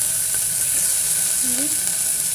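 Potato and cauliflower pieces fry in a pan with a loud, even sizzle and hiss, a brief scrape or two of stirring rising above the steady crackle.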